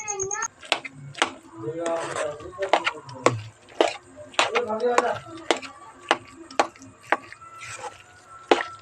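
Khoya (half a kilo, made a day earlier) is stirred into a bottle gourd and sugar sweet in a pan, with repeated scraping knocks and clicks of the spoon against the pan under people talking.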